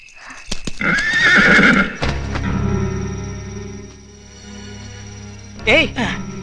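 A horse whinnies loudly and close in a film scene, with hooves thudding and clopping beneath a steady rumble, then lets out a second shorter neigh near the end.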